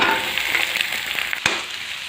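Vegetables sizzling in hot oil with onions and crushed ginger in a pan for veg pulao, a steady close crackling fry with light stirring scrapes, no talking.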